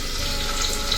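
Mustard seeds frying in hot oil for a tempering, a dense steady sizzle with faint crackling pops, close and continuous with no talk.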